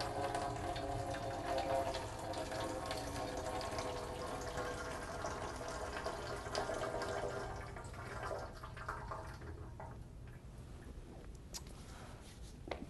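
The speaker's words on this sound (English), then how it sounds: "Water flows over turbine blades, which turns a shaft, and the shaft turns a generator, producing electricity." Water runs steadily through a small turbine generator demonstration, a constant faint rushing and trickling flow that softens slightly toward the end, with no talking.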